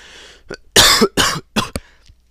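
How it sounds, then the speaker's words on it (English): A few harsh coughs in quick succession close by, preceded by a short breath, with a quieter throat sound trailing off at the end. "And I really need to cough again."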